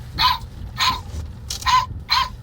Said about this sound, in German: Guck mal, dieser Hund hier zum Beispiel, ne? Kann gerettet werden von euch. Guck mal, wie er bellt.